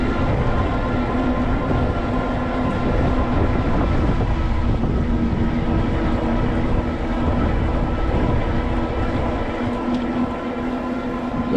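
Strong wind roars steadily across the microphone outdoors while an e-bike rides through an industrial park, a loud continuous rushing with low buffeting that never lets up.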